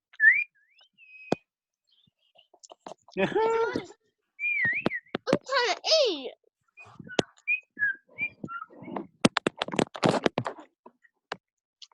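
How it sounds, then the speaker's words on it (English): Pet budgies chirp and whistle in short, scattered bursts in a quiet indoor room, and a person speaks briefly between the calls. "Can you hear those budgies?"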